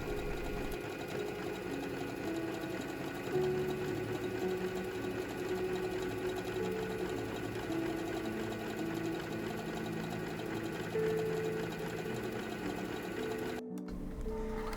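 A sewing machine runs steadily while stitching a shirt cuff and sleeve seam, its fast, even mechanical whir close and continuous before stopping abruptly near the end.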